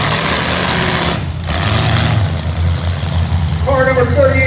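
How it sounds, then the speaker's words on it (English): A 1976 Chevy wagon idles at a county fair demolition derby, a loud steady engine rumble under a crowd and announcer talking over a loudspeaker. "Ryan McPham from Marion Center driving a 76 Chevy Wagon."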